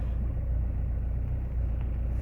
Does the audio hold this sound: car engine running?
yes